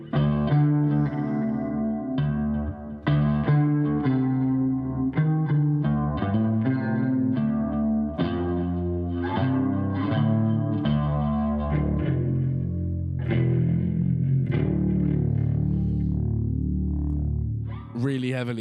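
Clean electric guitar run through an OBNE Signal Blender with heavy effects, strummed and picked chords ringing with chorus, echo and reverb, loud and close and playing continuously without a voice.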